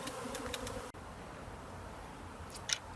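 Honeybees from a caught swarm hum steadily around two hive boxes, a soft, continuous buzz close by with a few slightly louder passes near the end and no talking.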